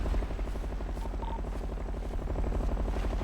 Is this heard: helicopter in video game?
yes